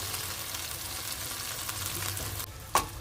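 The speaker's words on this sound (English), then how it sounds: "Take a slice of bread and just dip it in it. Make sure it's well coated. Put on the pan. Nice and hot." An egg-dipped slice of bread frying in a hot buttered pan gives a steady, close sizzle throughout, with a brief clatter of utensil or pan near the end.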